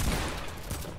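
A rapid volley of gunshots in the video game Fortnite, dense and continuous for about a second.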